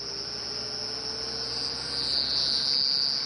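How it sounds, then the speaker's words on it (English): A cricket's steady, high-pitched chirring trills on without a break outdoors at night on a safari drive, close and fairly loud against a calm, quiet background. "That was a cricket there."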